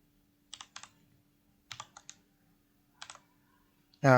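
A computer keyboard is typed on while HTML meta tags are being written: a few sparse clusters of close, crisp keystrokes in a quiet room, followed by a brief burst of speech at the end.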